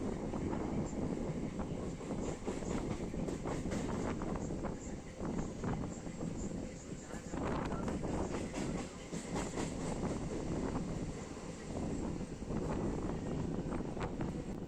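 A Santragachi–Digha local passenger train on the Howrah–Digha line near Panskura rumbles steadily along the tracks, loud and close, with heavy wind buffeting throughout and no talking.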